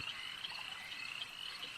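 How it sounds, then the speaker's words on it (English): Mottled bullfrogs croak on a rainy, windswept night, forming a steady, dense chorus of overlapping calls at moderate distance, with no voices over it. "Mottled bullfrogs sing their croaking night song in eager anticipation."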